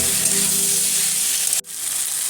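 Ground spice paste and spice powder frying together in a pan, a loud continuous hiss of sizzling that breaks off abruptly near the end and then returns.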